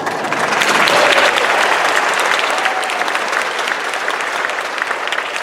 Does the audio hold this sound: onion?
no